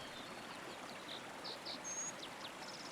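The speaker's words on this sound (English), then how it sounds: "The water continues its steady course" Gentle creek water flowing, a soft, steady trickling stream heard alone at a distance, with faint high chirps from birds or insects scattered over the quiet current.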